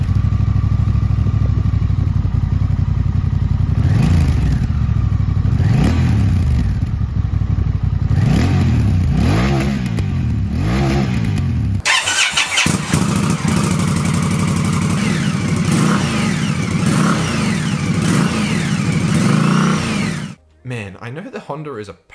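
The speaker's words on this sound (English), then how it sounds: "Let's also have a listen to the stock exhausts of each." A Honda Rebel 1100 parallel twin and an Indian Scout Bobber run on stock exhausts, one after the other: loud, close revving with rising and falling engine pitch, first one bike then the other, ending abruptly.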